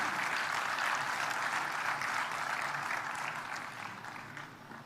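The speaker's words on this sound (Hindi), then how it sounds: "भाई ताली बजाइए" Audience applause fills a hall at a public event in Gorakhpur, a dense, steady roar of many hands clapping that holds loud before slowly tapering off, with no voices over it.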